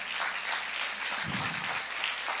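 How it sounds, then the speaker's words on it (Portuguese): Applause from a church congregation, a dense even wash of many hands clapping together, fairly loud and steady throughout with no voices standing out. "Vamos aplaudir Jesus pela vida deles nessa hora"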